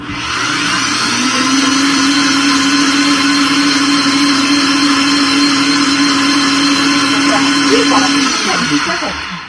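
A blender whirs at steady high speed for several seconds frothing a cacao drink, a constant motor hum with a sharp drop-off as it switches off at the end.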